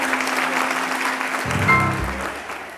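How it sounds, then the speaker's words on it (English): Applause from a breakfast-meeting audience at a leadership event, a steady wash of clapping that carries on throughout, with a voice starting to speak over it partway through. "All right, round of applause for that."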